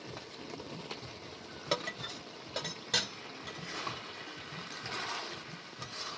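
Soybean chunks stir-fried in a pan with fried potato and snake gourd give a soft, steady sizzle, with a few sharp clicks and scrapes of a spatula against the pan, close and fairly quiet.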